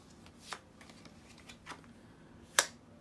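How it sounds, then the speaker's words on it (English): A tarot card drawn from the deck, a few soft quiet shuffles and slides followed by one sharp crisp snap of the card, no talking. "Let me draw a guide for you, like an advice card, something."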